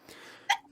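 A single sharp sneeze bursts out near the close, after a quieter breathy intake and a brief voiced catch of breath, loud and close to the microphone.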